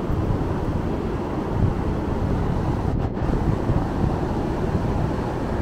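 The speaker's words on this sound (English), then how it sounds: "You can see the leaves falling down into the river as the wind is blowing." Wind blowing beside a river in Toledo, Spain, as a steady, loud, rumbling rush of gusts buffeting the microphone, continuous for several seconds with no voices.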